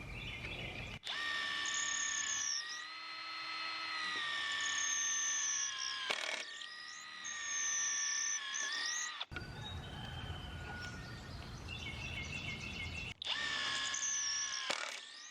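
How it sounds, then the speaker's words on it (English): A cordless power drill driving eye hooks into wood for grape trellis wires, whining in several long steady runs with brief pauses and ratcheting bursts between them, close and loud. "Helps if you drill the right direction"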